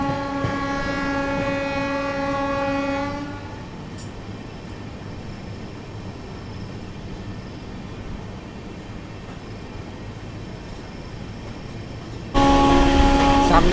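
The Vande Bharat Express 22435, Varanasi to New Delhi, passing from the opposite direction: a sustained horn blast opens, then a long rushing roar of wagons rumbles past, and a second horn sounds near the end.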